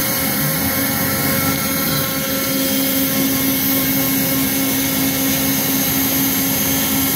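A shop vac pulls dust from an X-Carve CNC router through a two-piece dust boot, giving a loud, steady roaring whoosh that stays constant throughout with no talking.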